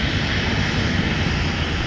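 A jet airliner rolls for takeoff from runway 17 at Minneapolis–Saint Paul airport, its engine roar a steady, loud broadband rumble holding without a break.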